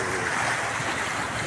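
Sea waves at Surigao Port wash in a continuous loud rush of surf and wind-blown water, steady and close throughout, with no voices.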